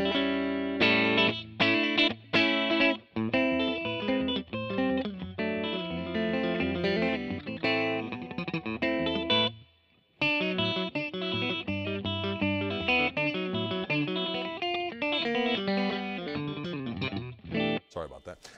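A clean Fender Custom Shop 1959 Telecaster Relic electric guitar, both pickups together, plays chords and picked notes with a bright, blended tone and slight chorus shimmer, briefly pausing midway before continuing.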